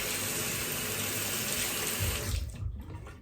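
Tap water runs steadily over a safety razor being rinsed in a sink, a continuous close splashing rush that breaks into uneven gurgles and spatters near the end.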